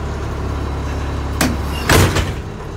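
The automatic door of a Blue Bird bus with a Cummins diesel engine shuts quickly, giving a sharp pneumatic thump followed by a louder closing clunk, close by over a steady idling drone.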